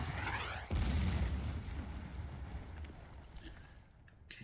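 Artillery bombardment in the WWII strategy game Order of Battle: Blitzkrieg: one heavy boom lands just under a second in, then a low rumbling tail and scattered distant crackle fade over the next few seconds.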